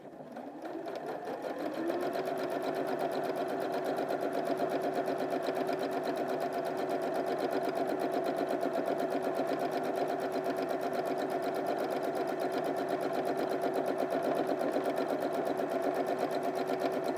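A Janome 5060 QDC sewing machine runs a steady straight stitch, its motor and needle whirring loud and continuous from start to finish after a brief ramp-up.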